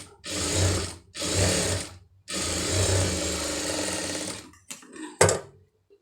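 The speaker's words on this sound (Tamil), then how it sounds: "இதில் வந்து ஒரு தையல் போட்டுருங்க" A sewing machine stitches fabric during a beginners' tailoring lesson: three close, loud, rapid whirring runs separated by short pauses, the last one longest, followed by a few mechanical clicks.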